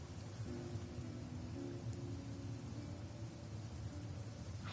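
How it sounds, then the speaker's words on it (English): Steady rain falls in Genshin Impact, a soft continuous broadband hiss at low level with a faint low hum underneath, no voices. "it's still fucking raining, dude"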